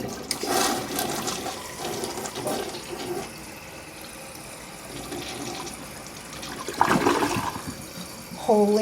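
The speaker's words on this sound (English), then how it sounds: "We're going to flush the toilet now." A toilet flushes right after its tank fill valve was replaced with a Fluidmaster 400A: a loud, close rush of water swirling and draining, then fading into quieter refilling, with a brief voice near the end.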